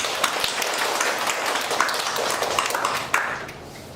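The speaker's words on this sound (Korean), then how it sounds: "우리 하나님께 감사와 영광의 박수 올려드리겠습니다" A church congregation applauds during a Sunday worship service, right after a prayer: a steady wash of many hands clapping together, dense and sustained, with a few louder individual claps standing out.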